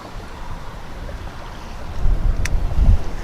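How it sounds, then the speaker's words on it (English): Wind blows across open water during fishing, a low rumbling gusty roar near the microphone that swells toward the end, with a faint tick partway through. "the wind is blowing down here"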